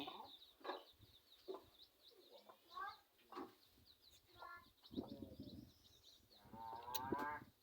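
Water buffalo low in an open rural field, several drawn-out calls at moderate distance, with birds chirping and rustling throughout.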